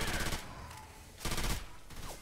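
Gunfire from survivors shooting zombies in Left 4 Dead 2 on the Fatal Freight custom map, a couple of fairly faint, short bursts separated by brief gaps over a murky background of game ambience.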